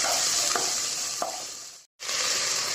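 Vegetables for veg biryani sizzle and are stirred in a pressure cooker, a steady hiss broken by a couple of spoon scrapes and a brief silent gap.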